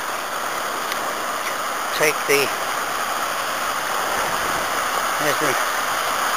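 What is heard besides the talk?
river water rushing through a mill race on River Teme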